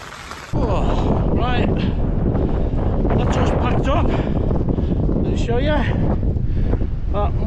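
Strong wind batters a tent at a mountain summit camp in extreme weather, a loud constant roar and buffeting that starts abruptly, with a person talking over it.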